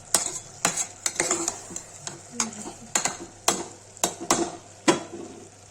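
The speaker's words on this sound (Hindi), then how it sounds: "बीन्स आलू भूंज गया है।" Potatoes and beans fry in a pan while a utensil stirs them, giving a run of sharp scraping clinks in an uneven rhythm over a steady low sizzle, close and fairly quiet.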